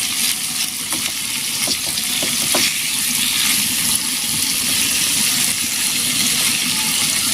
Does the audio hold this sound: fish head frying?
yes